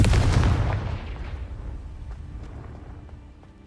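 A single loud Confringo blast spell from Hogwarts Legacy, with a heavy booming burst at the start that rolls off into a long, fading rumble.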